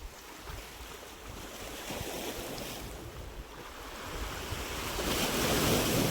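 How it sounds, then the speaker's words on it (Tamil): Ocean waves crash against rocks on a Seychelles beach: a continuous, loud roar of surf with wind buffeting the microphone, swelling stronger toward the end, with no voices. "அந்த கல்லில் அடிச்சு சதுருதுங்க அலை"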